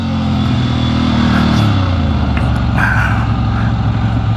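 Ducati motorcycle engine droning loud and close under the rider while cornering on a mountain pass, a steady rumble that shifts pitch partway through as the revs drop, with wind noise over it.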